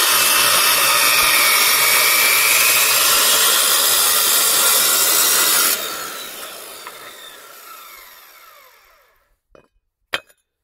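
A saw cuts firebrick for a wood stove with a loud, steady grinding rasp that winds down and fades as the blade slows, followed by a couple of sharp clinks.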